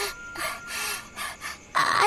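Rapid, heavy panicked gasps and breaths from a frightened woman in a dramatized horror story, several sharp intakes in quick succession, close and fairly loud, the last one strongest.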